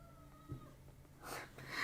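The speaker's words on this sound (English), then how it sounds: "She has such a whiny meow." A cat gives a short, thin meow near the end, faint and whiny, in an otherwise quiet room.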